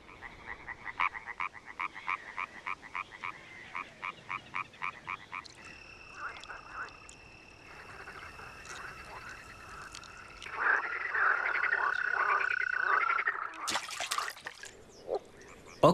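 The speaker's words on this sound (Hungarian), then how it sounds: "Tavasszal egészen a nyár beköszöntéig béka brekegéstől hangos a táj." Many frogs croak in a dense, pulsing spring chorus in the Czech countryside, with a rhythmic rapid series early on, then layered trilling calls and a loud burst near the end.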